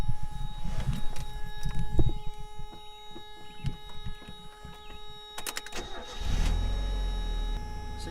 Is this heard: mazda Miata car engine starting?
yes